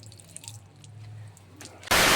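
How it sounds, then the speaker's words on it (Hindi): Water gushes out of an old household hand pump in a burst at the end, loud and close, after a quiet stretch with faint drips and a low background hum. "ये इसमें से निकला पानी"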